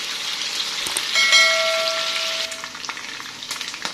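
Chicken frying in a pan while a spoon stirs it, a steady close sizzle with brief scraping and a faint metallic ring partway through.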